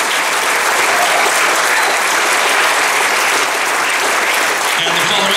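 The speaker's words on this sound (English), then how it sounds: "We applaud for him" An audience at a high school spring band concert breaks into loud, dense applause that holds steady throughout, with a murmur of crowd noise underneath.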